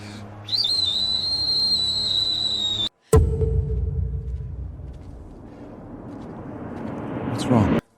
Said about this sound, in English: That's the Pompey family's death whistle.